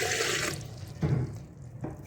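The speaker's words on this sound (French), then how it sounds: "Nous allons commencer par verser l'eau tiède" Warm water being poured into a bowl for bread dough: a strong, close splashing stream that cuts off, followed by a couple of shorter gurgling pours.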